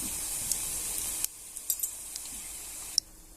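Gram-flour battered taro leaf bhaji fry in hot oil with a bright, hissing sizzle that drops abruptly to a quieter crackle with scattered small pops and a sharp tick near the end.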